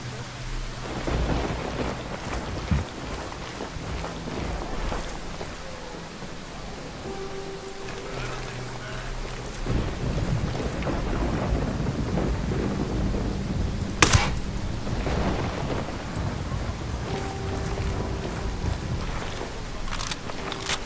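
Pouring rain in the Ghost Recon Wildlands video game, a steady dense hiss of downpour with rumbling thunder and occasional sharp cracks, fairly quiet overall and without talk.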